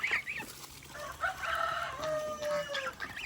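Chickens cluck and chicks peep while being fed, with a rooster-like crowing call mixed in, overlapping bird calls at close range over a low outdoor rumble.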